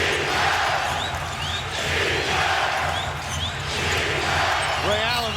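Loud, sustained roar of a frenzied crowd at a Staples Center basketball game between the Lakers and Celtics, many fans on their feet cheering and yelling in waves, with a commentator talking over it.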